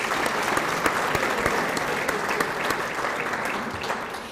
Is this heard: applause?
yes